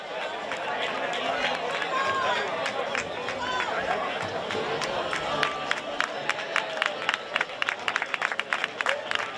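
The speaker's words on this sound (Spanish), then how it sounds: "Aplauso para todos ellos." Crowd clapping at a triathlon awards ceremony in San Roque, with overlapping chatter and shouts; dense claps build toward sharper, louder bursts near the end.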